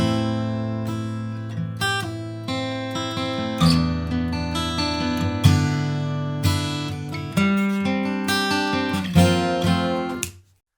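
Electric guitar plays a rock intro stiffly on the beat, strummed chords and riffs ringing loud and close without accompaniment, ending in an abrupt stop.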